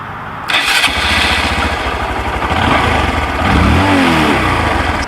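A Honda Grom MSX125 motorcycle engine with stock exhaust cranks and catches, then settles into a steady, fairly quiet idle with a slight rise in revs near the end.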